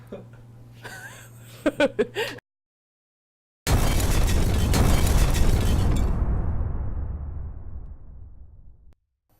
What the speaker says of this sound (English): That explosion has left me speechless.